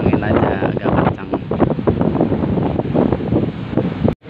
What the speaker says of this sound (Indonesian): cuma angin aja agak kencang.